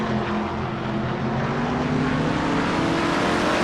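A race car engine in an IROC race at Watkins Glen winds up steadily toward about 9,400 RPM, a loud continuous rising drone with no voices.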